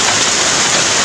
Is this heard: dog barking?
no